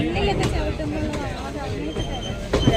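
A diesel locomotive and train at a station with seven or eight platforms, with a low rumble of wheels and rail clatter and a few sharp clanks, while someone talks over it throughout.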